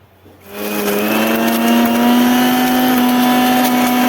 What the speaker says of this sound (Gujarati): હવે ચાલો આપણે મિક્સરમાં એની ચટણી કરી લઈ